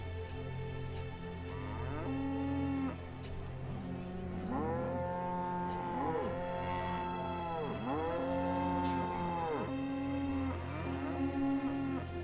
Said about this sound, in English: Cows are getting a little wild.